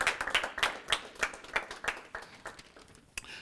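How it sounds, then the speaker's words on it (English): An audience claps and applauds at an evening community gathering on budget cuts, a brisk scatter of hand claps that tapers off toward the end. "Give him a round of applause."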